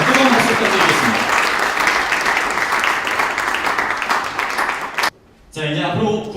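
Audience applause at the founding anniversary ceremony of a Korean National Assembly news outlet, a loud sustained clapping from a crowd for about five seconds before a short break and a second burst.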